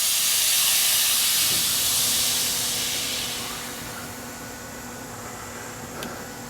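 Air suspension on a bagged Chevrolet C10 custom truck vents loudly as the truck lowers, a strong close hiss that gradually fades over several seconds, ending with a faint click.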